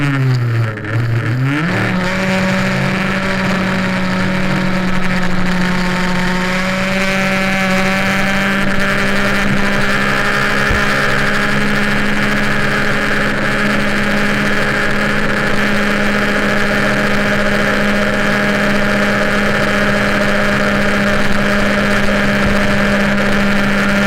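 An MBK 51 moped with an MVT exhaust winds up quickly, then holds a loud, steady high-revving drone at over 13,000 rpm, close by and continuous throughout with no voices.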